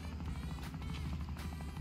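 A helicopter in the video game Wobbly Life gives a continuous whirring rotor drone with a low rumble, steady and close, with faint rhythmic pulsing and no speech over it.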